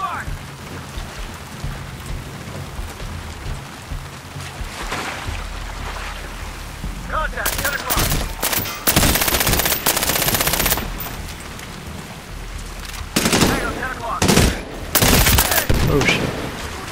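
Medal of Honor Warfighter PC gameplay with repeated bursts of automatic gunfire, loud and dense in places, over a rumbling game soundscape, with a player talking at times.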